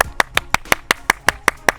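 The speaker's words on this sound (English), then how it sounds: "Let's give a round of applause for our first Tomato Award winner," Hand clapping for a Tomato Award winner: about ten sharp, close, evenly spaced claps in a steady rhythm, with no voices.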